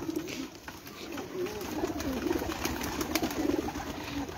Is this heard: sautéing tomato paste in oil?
no